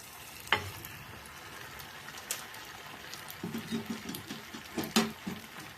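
Ration-rice athirasam fries in hot oil with a soft, steady sizzle and bubbling, punctuated by occasional clinks and stirring scrapes, fairly quiet and close with no one talking.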